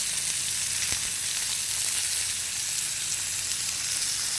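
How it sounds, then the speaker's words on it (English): Deer steaks fry in a pan with a steady, loud hiss and crackle that holds at a constant level the whole time, with no talking. "It's sizzling."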